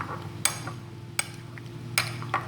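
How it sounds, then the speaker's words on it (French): A spoon stirs hmis salad dressed with vinegar, giving a few sharp clinks against the bowl at irregular moments over a low, steady background. "Je mélange bien"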